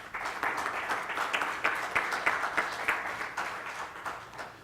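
Audience applause at a seminar on globalization, NAFTA and customs law: a steady wash of many hands clapping with crisp individual claps, sustained and fairly loud, with no talking.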